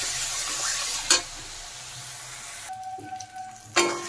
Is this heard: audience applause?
no